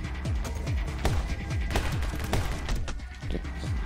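Rapid Uzi gunfire in the My Friend Pedro video game, repeated quick bursts of close, loud shots with sharp decaying impacts layered over game sound.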